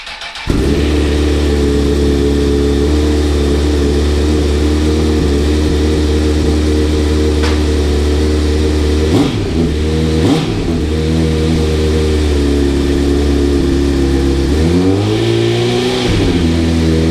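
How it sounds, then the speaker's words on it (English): A 2006 Honda CBR1000RR sport bike with its exhaust servo deleted starts up and idles steadily up close, loud and alone, with a couple of brief throttle blips partway through and near the end. "Just test fired the bike with the servo delete installed and the battery back in."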